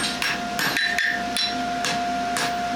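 Farrier's hammer striking hot steel while forging a horseshoe: a series of sharp metallic blows in an irregular rhythm, close and loud, over a steady ringing hum and workshop background.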